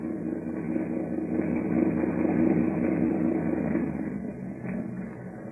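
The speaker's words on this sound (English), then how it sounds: "Suddenly, the thick silence is broken by the low purr of a motorboat engine." A motorboat engine in an old 1940s-era radio drama gives a low, steady, muffled purr that swells slightly and then eases, alone without voices.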